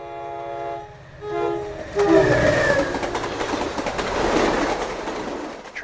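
A train rumbles past close by, its horn blaring in long sustained tones before the roar of the passing cars takes over.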